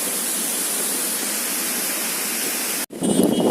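Steady, full roar of a scenic waterfall filling the air with broadband rushing water, continuous and close, before it cuts off abruptly near the end into a different, rumbling sound.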